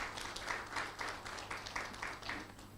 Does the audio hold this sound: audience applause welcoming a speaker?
yes